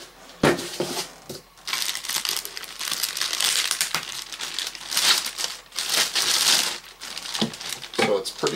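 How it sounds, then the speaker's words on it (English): A big plastic bag crinkles and rustles up close as a Makita XRM02W 18V job site radio is pulled out of it, in a run of irregular crackling bursts. "It's in a big plastic bag, so we'll pull this straight out."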